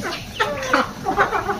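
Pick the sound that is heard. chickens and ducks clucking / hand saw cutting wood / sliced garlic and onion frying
chickens and ducks clucking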